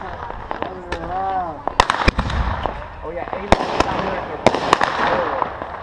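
Backyard fireworks on the 4th of July crackle and bang in a string of sharp reports, some with whistling rising tones, close by and loud, with people talking and shouting throughout.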